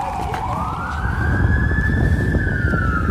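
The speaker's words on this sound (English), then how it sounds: "Oh, not the fire truck." A loud wailing fire truck siren rises and holds its pitch, close by, over the rumble of road traffic on a frozen Toronto street at -20°.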